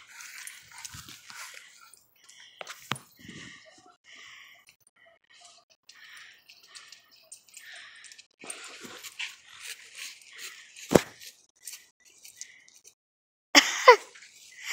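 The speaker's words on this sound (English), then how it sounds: "I love when dogs do that." A dog gives soft, high whimpers in short bursts between long quiet gaps, with a few louder thumps and shuffles near the end.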